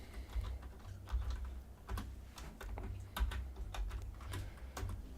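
Close-up typing on a computer keyboard while writing code in Unreal Engine 5, with bursts of quick irregular keystrokes and short pauses over a low steady hum, no talking.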